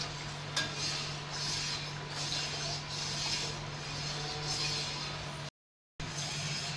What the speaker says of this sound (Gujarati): ને થોડું ગરમ થવા દઈશું ને હલાવતા રહીશું, જેથી નીચે ચીપકે નહીં ને દૂધ બળી ના જાય